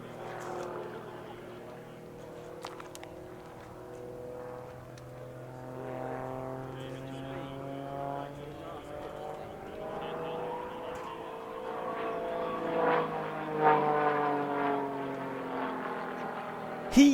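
An RAF Tutor propeller aircraft flies a display at the Midlands Air Festival 2023. Its droning engine note sweeps up and down in pitch and grows louder toward the end as it passes.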